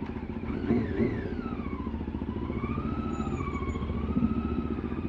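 A CLX700 big bike motorcycle riding along a rough road, its engine droning steadily up close with rising and falling pitch as it accelerates and eases off.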